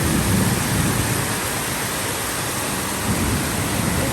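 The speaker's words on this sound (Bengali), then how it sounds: "5 থেকে 7 মিনিট হয়েছে আমরা ফ্ল্যাটে ঢুকলাম, আর মুষলধারে বৃষ্টি স্টার্ট হয়েছে।" Torrential rain pouring down outside a flat, a steady dense hiss of heavy rainfall that stays even throughout, with no voices.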